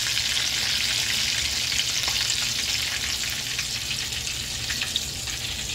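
Fish frying in hot grease, a steady, close, even sizzle with soft crackles running throughout, no voices.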